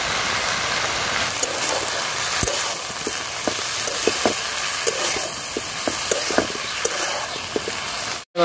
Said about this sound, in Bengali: নুন হলুদ দিয়ে ভালো করে ভেজে নেব।